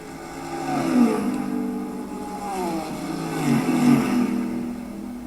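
Race cars in an endurance series race come down the front straight, their engines droning loudly and swelling twice as they pass. The pitch sweeps as each one goes by, with no speech.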